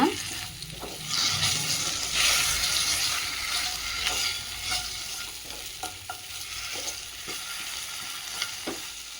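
Potato cooks in a pan with salt, a steady frying sizzle running throughout while a utensil scrapes and stirs in irregular strokes, close and fairly loud, with no talking.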